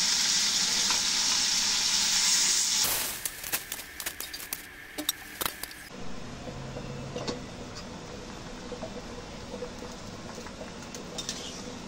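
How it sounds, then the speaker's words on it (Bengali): A river tengra fish curry coming to the boil starts with a loud, steady hiss, then turns into scattered pops and crackles, and finally settles into a softer bubbling simmer with small clicks, heard close and without speech. "তরকারি উতলাতে শুরু করেছে"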